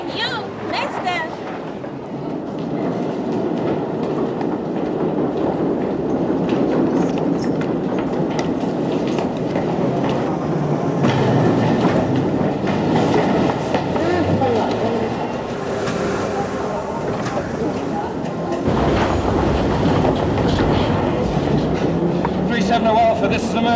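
A train runs along the rails with a steady loud rumble and rattling carriage noise, wheels clacking beneath it and brief squeals, while people talk over the din.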